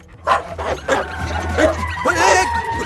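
A dog barks and yips in a few sharp, close bursts, mixed with whimpering and voices talking over it in a noisy outdoor scene from a Bollywood film.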